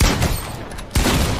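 Sniper gunshots in the video game Fortnite: a sharp blast at the start, then a second abrupt shot just under a second later, each trailing off into a short echo.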